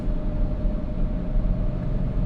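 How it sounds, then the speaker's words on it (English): Steady low rumble and road roar from older snow tires on a 2021 Audi C8 RS6 Avant cruising quietly with the exhaust valves closed, a constant droning hum heard from inside the cabin without speech. "A lot of the noise you hear right now is tire noise from the older snow tires."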